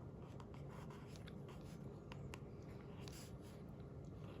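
A pen moves across paper while an Urdu letter is written out, producing a faint, steady scratching and tapping in a quiet room with no voices.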